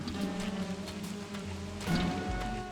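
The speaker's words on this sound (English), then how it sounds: "I'm also scared of lightning now because it's raining." Rain falls steadily in the survival video game Don't Starve Together, a continuous hiss of drops with game tones underneath and a slight swell near the end, no voices.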